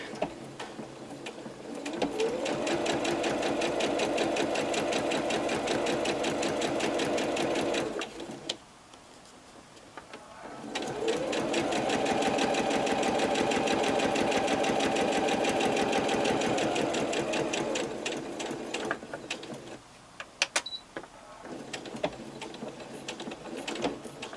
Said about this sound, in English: Drop your needle. I like to do this securing stitch.